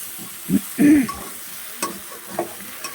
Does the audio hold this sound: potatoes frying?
yes